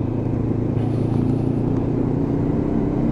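A Lexmoto LXR 380cc motorcycle is ridden along, its engine giving a steady low, throbbing drone with wind rumble, consistent and close throughout without speech.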